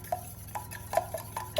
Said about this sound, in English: we are going to stir that in slowly